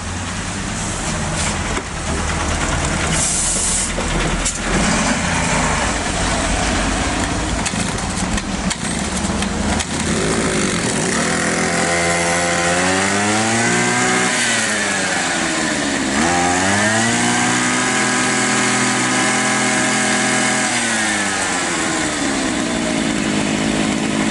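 A string trimmer's small two-stroke engine, just fitted with a new ignition module and adjusted, starts and runs loud and close, revving up and down in repeated swells before settling toward idle.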